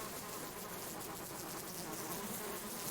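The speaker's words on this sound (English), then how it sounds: "You sit on it from the side, but you get as close as you can, and the bees can't attack you" Bees swarm around a beehive, a faint, steady buzzing drone hovering in the background with no talk over it.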